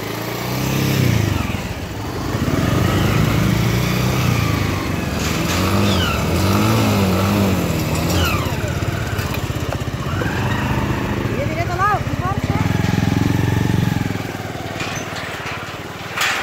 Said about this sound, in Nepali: दुईटा मोटरसाइकल जस्ट आउने रहेछ हैन